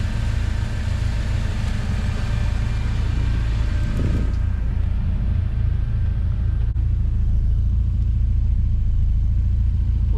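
A right-hand-drive Acura Integra Type R, built up from scratch, idles with a deep, steady engine rumble close by. The tone stays constant throughout, broken only by a brief rustle of movement around the middle, with no voices.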